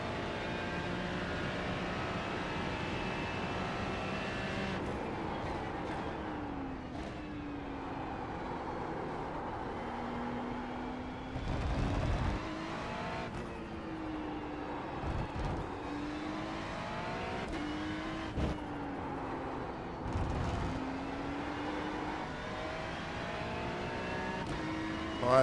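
A Ferrari 296 GT3 in iRacing at Okayama, its engine note rising and falling through repeated downshifts and engine braking, steady and close with sharp gear-change blips throughout.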